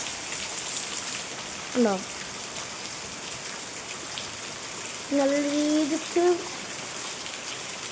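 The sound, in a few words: rain falling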